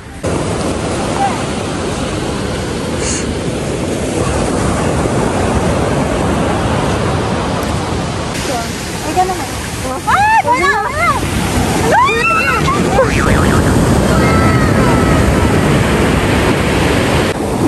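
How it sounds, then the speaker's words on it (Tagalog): Strong ocean waves crash and roar on a beach in a loud, continuous wash of surf with wind noise, while voices and short bird-like chirps surface briefly in the middle. "Lakas po ngayon ng alon."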